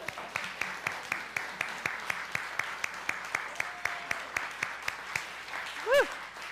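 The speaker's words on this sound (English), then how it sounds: "Let's give him one more round of applause." A small congregation at a spiritual-center church service gives a round of applause: quiet, fairly sparse claps in an uneven rhythm. Near the end, a single enthusiastic whoop rises above the clapping.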